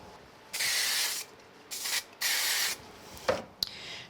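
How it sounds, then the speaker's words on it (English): Bursts of aerosol spray hiss against the back of iris-folded card pieces for a layered hexagon card, three sustained sprays separated by short pauses, followed by a few light taps and rustles of card. "I find the easiest way to do this is just spray the entire back."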